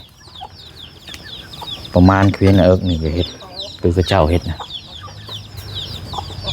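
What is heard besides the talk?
chickens clucking near a chicken coop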